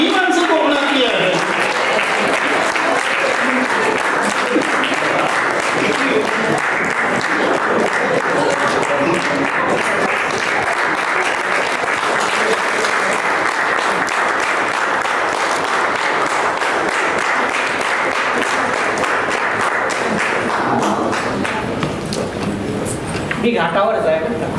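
Loud, sustained applause from a seated audience at a book lovers' gathering in Karad, a dense steady roar of clapping that holds for over twenty seconds before briefly thinning at the very end.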